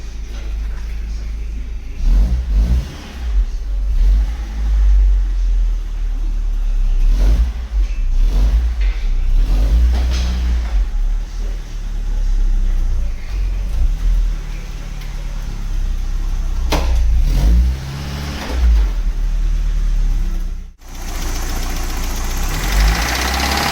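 A Vauxhall Cavalier 2.0 eight-valve engine suspected of knocking, heard from inside while driving on a bad tyre, with a steady mid-pitched drone, repeated revving surges and a brief dropout near the end.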